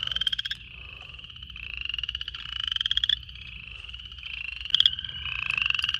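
Frogs calling in a thick, continuous chorus of pulsed trills, with a few sharper high notes from a spring peeper poking out near the middle and end.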